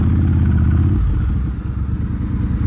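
Triumph Bobber 1200 motorcycle engine running through its exhaust, a loud, close, deep rumble with a steady low throb that shifts to a choppier, lumpier idle-like pulse partway through, with no talking.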